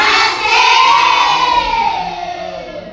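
A group of children at a school briefing shout out the tepuk kelima clapping chant together, loud and close, their voices sweeping up then trailing off over three seconds.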